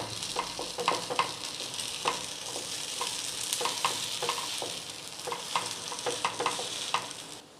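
Tomato appe in a frying pan being flipped one by one, a steady oil sizzle under a series of quick clicks and light scrapes of a tool against the pan, close and continuous with no voices.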